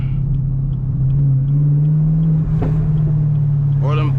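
Chevrolet Camaro ZL1 with manual gearbox and supercharger, heard from the driver's seat on an early-morning drive: a steady, loud engine drone with a thin whine holding above it, and a brief rise in pitch near the end.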